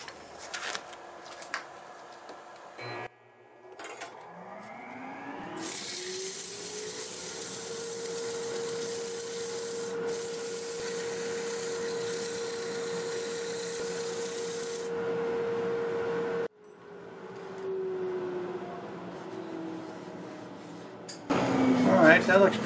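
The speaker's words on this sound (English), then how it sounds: "I'm going to sand in reverse at about 400 using 80 grit." Abrasive paper at 80 grit rubs against a spinning wooden segmented turning on a lathe running in reverse at about 400 rpm, a steady rasp over the lathe's rising motor whine that runs for about ten seconds before stopping.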